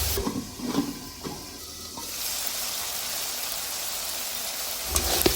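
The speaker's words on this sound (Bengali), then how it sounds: "এখন এগুলো নেড়ে চেড়ে ঢেকে দিয়ে কষিয়ে নেব" Vegetables with chopped tomato and a little water sauté in a pan, opening with a few knocks of stirring before settling into a steady, hissing sizzle under a lid.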